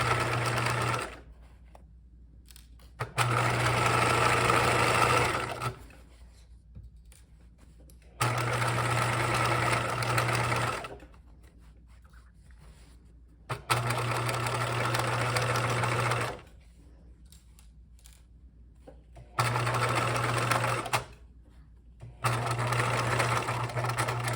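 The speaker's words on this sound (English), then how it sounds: "lining it up so that we're sewing on the line that we've marked" A sewing machine stitches along a marked line on a backpack bag body seam, running in several steady bursts of a few seconds each with quiet pauses between them, close and fairly loud, with no talk.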